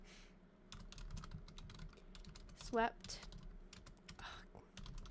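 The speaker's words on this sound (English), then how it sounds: "Oh man, the typing." Typing on a computer keyboard, a dense run of quick clicks going on steadily under a woman reading aloud, with a short chirp partway through.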